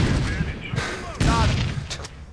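Gunfire in the tactical shooter Special Forces Team X, with several bursts of shots cracking over a steady layer of game noise while someone talks excitedly throughout.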